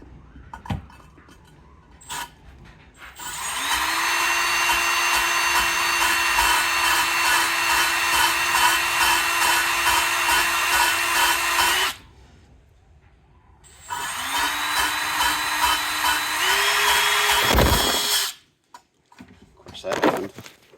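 A spinning tool works a valve against its seat in an LS engine head during lapping, giving two long, steady whirring runs with a break between them and a few clinks of the metal parts around them.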